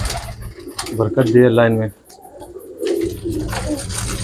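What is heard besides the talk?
old pigeons cooing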